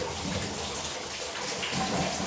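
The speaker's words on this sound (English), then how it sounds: "Okay, now I'm gonna flush the toilet and see." A toilet flushes in an older house with aging pipes, a steady broadband rush of water running continuously and fairly close, with no talking.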